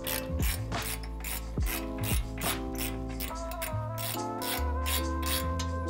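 A ratchet wrench tightens brake caliper bolts on a 2019 Ford Ranger during a CV axle replacement, giving steady rapid clicking strokes in repeated bursts, close and loud with no talking.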